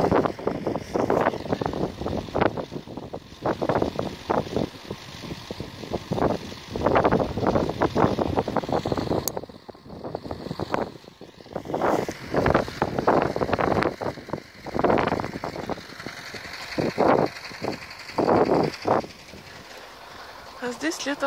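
Strong winter wind blows outdoors at the Lesnaya Skazka park in Kemerovo, buffeting the microphone in repeated loud gusts with brief lulls between them.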